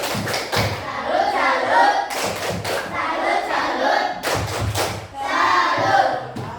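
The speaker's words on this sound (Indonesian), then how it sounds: "Tepuk salut dulu. Tepuk salut." A school class in Indonesia performs a rhythmic salute clap, loud patterned hand claps and thumps from many students in unison, repeated in bursts close by.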